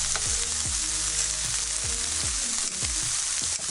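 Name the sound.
frozen food cooking in a pan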